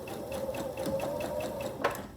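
A sewing machine with an open-toed foot stitches quilt block units for a Broken Wheel quilt block, a steady rapid mechanical whir with a faint rhythmic ticking, running close and alone, with a brief clunk near the end.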